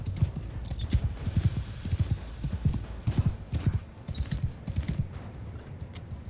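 Horse hooves pound in a fast, steady gallop rhythm in the video game Mount & Blade II Bannerlord, loud and continuous with no talking.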